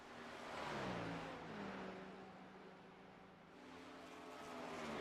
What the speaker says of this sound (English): Jeez, those GTPs just scream through the mountain there.